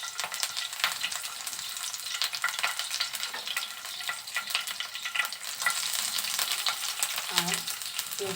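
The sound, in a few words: green chilies and onion frying in oil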